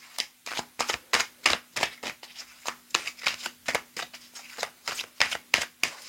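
Playing cards riffled and cut by hand in a rapid, steady run of crisp bursts, close and loud, with no talk over them.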